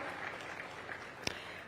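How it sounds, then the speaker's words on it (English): Applause from an audience at a youth leaders' event at KICC in Nairobi, a steady broad wash of clapping with one sharp louder clap near the end, moderately distant. "Let's give him a round of applause as well."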